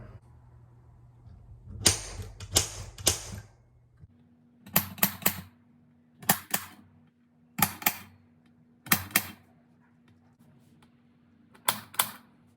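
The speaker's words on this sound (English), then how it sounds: "Little snap punch." A small hand snap punch cuts holes through used engine header gasket material traced with wooden organizer patterns, giving sharp, distinct clicks and snaps in short bursts of two or three, repeated about six times over a low steady hum.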